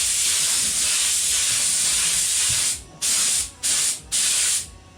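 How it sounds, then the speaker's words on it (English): Spraying while a timber floor is laid in a VW Kombi van: a steady, close hiss runs for nearly three seconds, then breaks into three short, sharp bursts with brief gaps between them. No one talks. "I'll probably actually spray this a little bit further, so I'm good to put the next board on as well."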